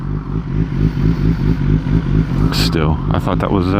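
A motorcycle engine started in neutral settles into a close, loud, steady idle with a fast regular pulsing throb. Someone talks over it near the end.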